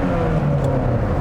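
A 1999 Honda Prelude Type SH engine holds a steady, loud cabin drone around 3,500 RPM, with a continuous low rumble and whir throughout and no voices.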